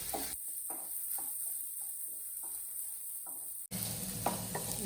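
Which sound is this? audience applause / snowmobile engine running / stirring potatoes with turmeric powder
stirring potatoes with turmeric powder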